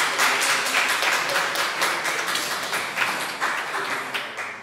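Steady audience applause at an opening event, many hands clapping in a dense, fairly loud wash that slowly thins toward the end, with no voices.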